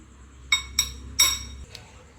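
A small spoon clinks sharply against a metal pan or dish as turmeric powder goes into prawns for a spicy roast, giving three close, bright taps and then a softer fourth.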